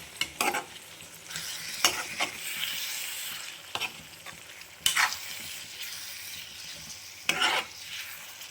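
Tomatoes get stirred into a fenugreek leaf curry frying in a pan: a steady bright sizzle runs throughout, punctuated by about half a dozen sharp spatula scrapes at uneven intervals, close by and without talk.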